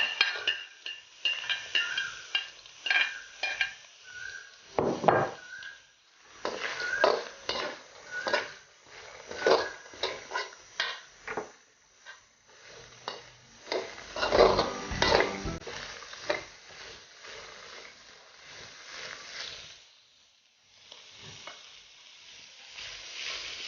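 Carrots being stir-fried in a pan for chicken fried rice: busy scraping, clattering strokes of a utensil against the pan over a steady sizzle, with irregular bursts and brief pauses, close and fairly loud.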